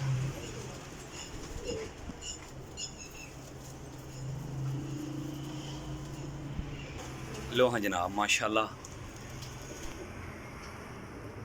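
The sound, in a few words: pigeons being released to fly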